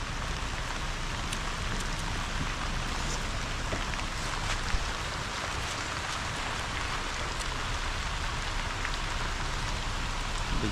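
Heavy rain pours steadily onto surfaces, a dense, continuous close patter with scattered louder drops and no voices.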